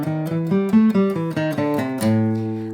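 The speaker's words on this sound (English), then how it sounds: "Let's say we're practicing the blues scale, which sounds like this." Electric or acoustic guitar runs up and down the blues scale, a dozen clear picked notes in an even rhythm, close and bright, ending on a sustained low note, with no talking.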